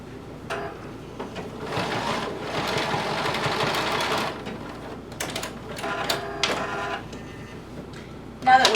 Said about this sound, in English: You're going to sew your hem all the way around.